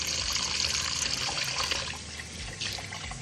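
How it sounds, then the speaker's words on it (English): A pound of rice washed under running water for a Jamaican pumpkin rice dish, with a steady close hiss and splash of tap water and some grains stirring through it. "We're gonna wash the rice and come back up, add it to it."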